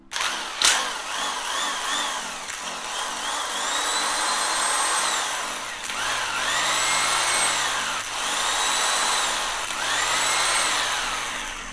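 A Hitachi 100V electric impact wrench runs in about four sustained bursts, its motor whining up and settling between pulls of the trigger, loud and close with no talk.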